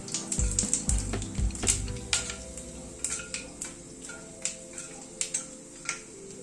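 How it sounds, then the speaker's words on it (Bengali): Whole spices and peppercorns crackle in hot oil over a very low gas flame, giving a steady stream of small pops and ticks with a soft sizzle beneath, close and fairly loud, with no voices. "গ্যাসের ফ্লেমটাকে একদম কমিয়ে ফোড়নটাকে একটুখানি ক্র্যাক করিয়ে নেব।"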